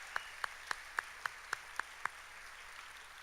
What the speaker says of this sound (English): Let's give Dr. Richard Yuen a round of applause